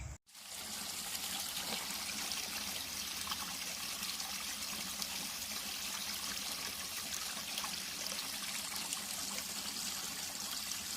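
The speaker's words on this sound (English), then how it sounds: "this is the first bit of water I've come across" Small stream of water trickling beside a hiking trail, a steady close babble and splash running unbroken and alone after a brief silent start.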